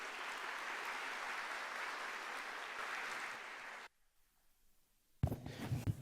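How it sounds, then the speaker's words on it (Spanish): Audience applause at a Colombian tax-law seminar, a sustained wash of clapping from a seated crowd that stops abruptly, followed by near silence and then the start of a voice. "Recibamos con un aplauso"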